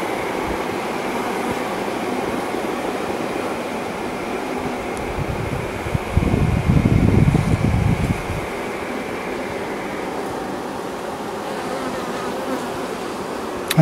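Honeybees buzz loudly and steadily around an open split hive at close range, in a dense continuous drone that swells briefly partway through. No one speaks.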